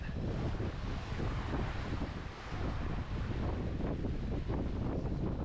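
Strong wind roars steadily across the microphone aboard a sailboat under jib and staysail in about seven knots of wind, with water rushing and surf swishing beneath the constant buffeting.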